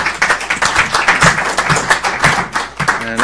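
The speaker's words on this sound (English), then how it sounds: "a round of applause" Applause from attendees at a school committee meeting, a steady round of clapping from a modest group lasting a few seconds, moderately loud and close with no talk over it.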